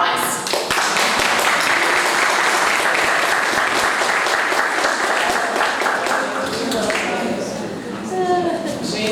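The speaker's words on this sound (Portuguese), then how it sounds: "Palmas!" Sustained applause from a seminar audience welcoming a guest to the panel, dense and steady clapping for about nine seconds with some voices mixed in, fading slightly near the end.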